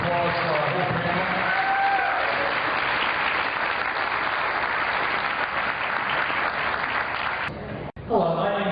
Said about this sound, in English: How about a big round of applause for our whole panel?